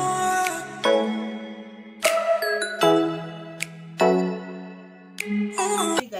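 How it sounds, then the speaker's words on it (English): A bright notification bell sound effect, a short series of clear chiming dings with ringing tones that decay between strikes, loud and alone. "A notification bell pop up beside it."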